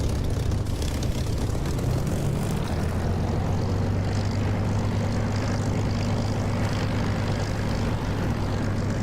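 A Spitfire Mk IX piston engine roars steadily at high power during a takeoff roll in the DCS flight simulator, a loud, continuous propeller drone with no talking.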